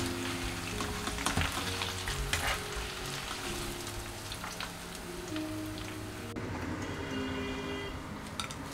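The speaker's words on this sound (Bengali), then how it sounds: "গ্যাসে হাই হিটে ভেজে নেব।" Plantain chips frying in oil on a gas flame at high heat give a dense, continuous sizzle with crackles and spattering, close and steady, with a stir or shift partway through.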